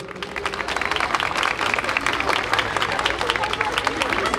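A crowd at an evening event for disabled youth in Zeytinburnu applauds with dense, steady clapping and faint crowd murmur throughout.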